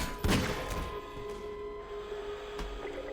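A Magnum revolver in Half-Life 2 fires a sharp, loud shot near the start, followed by a second, fainter report later, with a ringing tone lingering in between.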